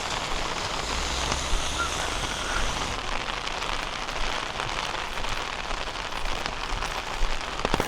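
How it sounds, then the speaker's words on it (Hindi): Heavy rain drums steadily on a transparent umbrella overhead during a downpour in Nagasaki, Japan, a dense close hiss of drops with no voices, a low rumble fading after the first few seconds. "भाई बारिश कुछ ज़्यादा ही होने लग गई यार ये तो"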